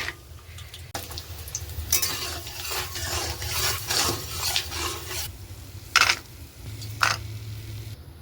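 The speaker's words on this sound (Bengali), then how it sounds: "একটুখানি বাদামটা ভেজে নেবো আগে" Peanuts frying in a pan in a home kitchen, giving a soft crackling sizzle with intermittent stirring scrapes and a couple of sharper clinks, moderately close and without talk.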